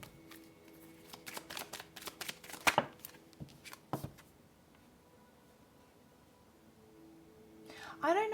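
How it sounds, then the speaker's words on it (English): Tarot cards are drawn and shuffled close up in quick crisp bursts of riffling and flicking, then go quiet before a short card slide at the end. "I'll pull out one more card for you."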